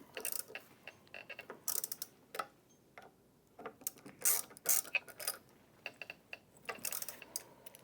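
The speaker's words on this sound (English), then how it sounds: "finish tightening your bearing mount hardware we installed earlier" Ratcheting clicks from a wrench tightening bolts on the bearing mount hardware of a buffer brush assembly on an ATLAS or ATLAS Walker machine, heard as close bursts of rapid ticks and mechanical clatter with short pauses between them.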